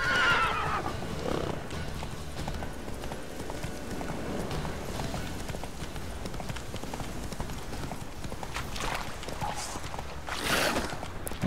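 A horse in The Witcher 3: Wild Hunt whinnies at the start and again near the end while its hooves clip-clop steadily underneath, fairly close, mixed with game ambience.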